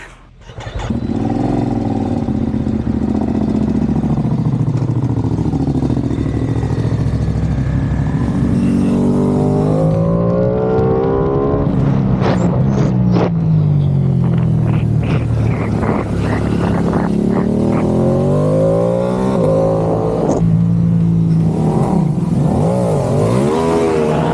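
A Ducati Panigale V2S motorcycle engine starts and revs repeatedly, loud and close, rising and falling in pitch with deep burbling between throttle blips.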